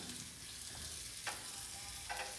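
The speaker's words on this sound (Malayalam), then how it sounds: "ഇനിയിപ്പോൾ ഇതാ വെളിച്ചെണ്ണയിൽ നമുക്ക് ചെറിയ ഉള്ളി അത് വഴറ്റിയിടണം" Small onions sautéing in coconut oil, a quiet, even sizzle broken by two brief stirring scrapes.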